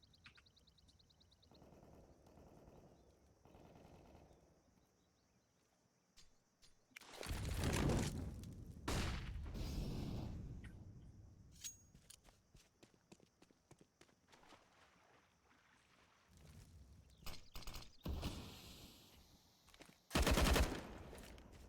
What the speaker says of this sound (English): Sparrow gonna be waiting for him with that AK-47